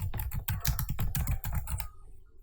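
Rapid typing on a computer keyboard, a close, steady patter of crisp key clicks for about two seconds that slows and stops, with no voices.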